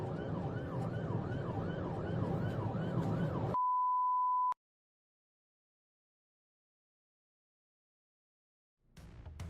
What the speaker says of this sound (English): Sirens wailed, lights flashed